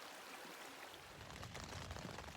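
Steady rain from a thunderstorm hisses over everything on a hiking trail, a dense wash of falling drops with a low rumbling undertone, no voices.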